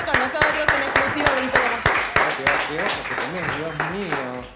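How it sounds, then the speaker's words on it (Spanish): A studio audience on a TV variety show claps in a steady, rhythmic beat of sharp hand claps while voices talk and call out over it, close and lively throughout. "Fuerte el aplauso ahí"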